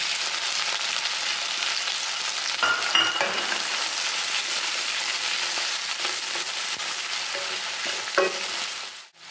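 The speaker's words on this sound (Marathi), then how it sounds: "आता हे मी मस्त छान परतून घेत आहे आणि कांदा थोडासा गुलाबी रंगावर होईपर्यंत परतणार आहे" Finely chopped onion with green chillies sautés in a pan for tomato chutney, giving a loud, steady, close sizzle throughout with a few faint stirring scrapes and no voices.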